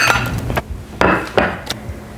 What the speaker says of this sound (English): Let me get a little plate